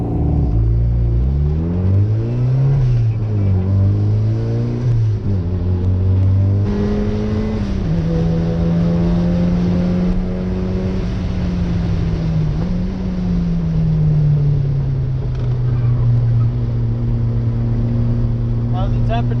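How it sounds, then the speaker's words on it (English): A turbocharged Mazda Miata on a track hot lap, engine droning loud and steady inside the cabin, revs climbing through the gears with shifts and a long sustained pull, while a voice talks over it. "we're gonna go out, do one more session in the Miata"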